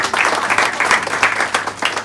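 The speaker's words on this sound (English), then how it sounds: "Yeah, round of applause, absolutely." Audience applause for the students at Balaam Wood School, a steady crowd clapping at close range that fills the whole moment with a dense, even patter.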